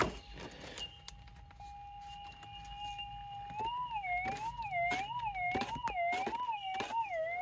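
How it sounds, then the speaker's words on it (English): Metal detector held over a gold target in a creek bank during jungle prospecting gives a steady electronic tone that turns into a rising, warbling wail, moderately loud, with scattered knocks and clicks. "I've got a little signal in the side of this bank here."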